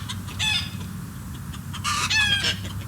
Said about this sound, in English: it sounds like a chicken has laid an egg